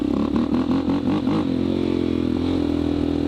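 A piped and jetted dirt bike engine, close and loud, with a rough buzzing idle that rises in a few quick revs before settling back to a steady drone.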